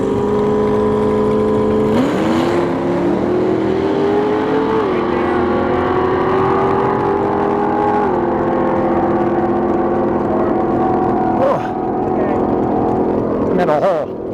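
A Kawasaki ZH2 motorcycle engine held at revs on a drag strip, a loud steady drone with slight pitch wavers and a few sharp blips, close and continuous.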